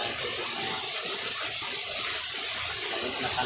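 A small forest stream flows steadily over its bed, giving a close, continuous hiss and gurgle of running water with no pauses.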